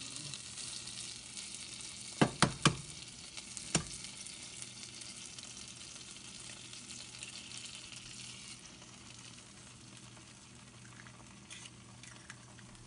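An egg in a hole sizzles gently in butter in a frying pan, a soft steady crackle heard up close, broken early by a few sharp clicks of a utensil.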